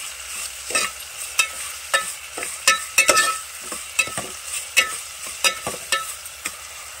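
A spoon scrapes and stirs onion and tomato curry in a pan, irregular sharp clinks and scrapes repeating over a faint sizzle, close and fairly loud with no talking.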